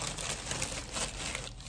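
Crinkling of a thin plastic bag used as packaging for a wig from an Amazon package, rustling steadily and close up for under two seconds with no talk.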